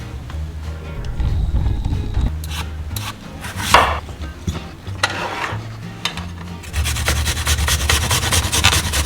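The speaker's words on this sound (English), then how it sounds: "grate 1 emotional support garlic, and 1 knuckle of ginger. Also grate about half an apple." Garlic, ginger and apple being grated, giving a rough repeated rubbing rasp in close, steady strokes, with a brief pause near the middle and a sharp knock before the grating resumes.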